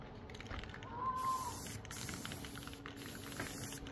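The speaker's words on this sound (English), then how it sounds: "we are good to start on the spray painting, the professional paint job" A spray gun paints a home-built Dale Earnhardt NASCAR-style stock car, a steady near hiss running under faint background noise, with short breaks where the spraying stops and starts again.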